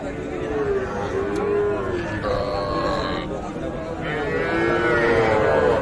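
Several cows moo in long, low drawn-out calls, one after another, amid a noisy crowd at the Ambari cattle market, with people talking nearby.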